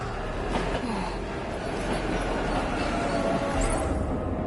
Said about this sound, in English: The train's already here.